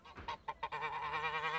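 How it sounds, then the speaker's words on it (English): A goose from a market honks in a few short, loud calls close by, followed by a sustained, wavering nasal call, with no talk over it. "The goose jumps out of the car and runs away."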